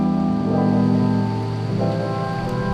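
Rain falls steadily outside a café on a wet day of cycling, a continuous wash of hiss with a low hum underneath and no voices.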